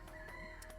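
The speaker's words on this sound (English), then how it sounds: "we are chasing away these chickens" Chickens cluck faintly in a calm turn-based city builder video game, giving a brief, quiet burst of fowl calls.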